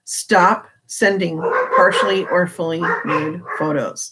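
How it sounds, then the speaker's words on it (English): Dogs bark and yip throughout, loud and close, mixed in with someone talking. "Again, sorry about the dogs."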